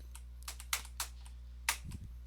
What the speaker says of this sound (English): getting angry because I'm pressing the wrong keyboard keys